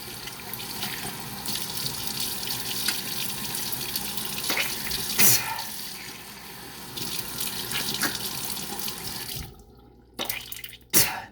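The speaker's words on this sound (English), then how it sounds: "This isn't mouthwash, this is just me washing the toothpaste out." Tap water running into a sink while toothpaste is rinsed from the mouth, a steady splashing stream with brief gurgles and spits, stopping near the end.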